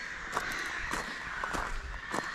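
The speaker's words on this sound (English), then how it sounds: "birds seem extra loud here." Several loud crow caws ring out one after another, harsh and close, with a steady background hiss between them, on a hiking route between Laxey and Douglas on the Isle of Man.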